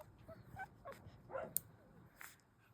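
Newborn two-day-old puppies give faint, brief whimpers and yips, several soft high cries scattered over low background rustle with no speech.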